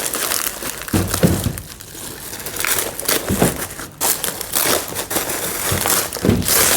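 Plastic bags crinkle and rustle loudly up close in repeated bursts as they are handled and pulled apart, with brief pauses between the crunchy handling sounds.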